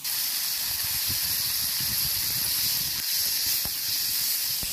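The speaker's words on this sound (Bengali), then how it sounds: "শসার মধ্যে আমি লবণ হলদি একবারে দিয়ে নিয়ে ভেজে নেব।" Cucumbers and green chillies frying in hot oil with salt and turmeric, giving a steady, close hiss and sizzle that runs without a break, with faint low scrapes underneath.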